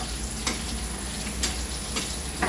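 Onions frying in a pan with a steady, close sizzle and faint stirring clicks, continuous throughout without talk.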